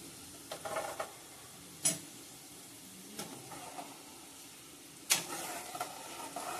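Camphor pieces frying in oil in a small pan give a quiet, crackling sizzle, punctuated by a few sharp pops and ticks at irregular intervals.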